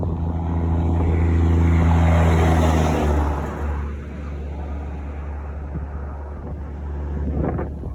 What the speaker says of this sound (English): After this truck, we can run across.